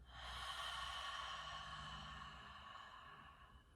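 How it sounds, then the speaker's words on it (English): Slow, steady exhalation through the mouth during a restorative yoga breathing exercise, a soft airy breath sound held for several seconds and gradually tapering, close and alone with no talk. "So take a deep breath in, exhale it out, inhale it in"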